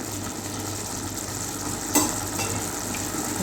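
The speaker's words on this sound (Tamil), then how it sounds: "தக்காளி நல்லா வதங்கிடுச்சு பாருங்கள்" Tomatoes sautéing in a pan for South Indian tomato rice give a steady, soft sizzle that runs without a break, with a brief stir or clink near the middle and no voices.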